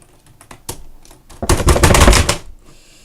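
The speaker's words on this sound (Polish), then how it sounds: "Czemu ty tak walisz w klawiaturę?" Rapid, forceful key strikes clatter close by, starting with scattered taps and building to a dense, loud burst of hammering on a keyboard before trailing off.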